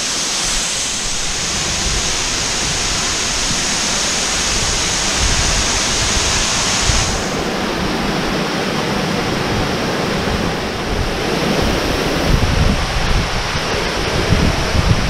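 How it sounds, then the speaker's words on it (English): Beaver Meadow Falls rushing in a loud, continuous roar of falling water heard up close, a broad steady hiss with no voices. "Waterfall's obviously super scenic."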